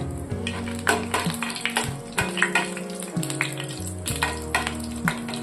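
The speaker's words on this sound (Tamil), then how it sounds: "இப்போது இதை நல்லா எண்ணெயில் பொரிய விட்டுருவோம்" Spices sizzle and crackle in hot oil for prawn thokku, a steady busy frying hiss with scattered pops and occasional stirring clinks, no voices.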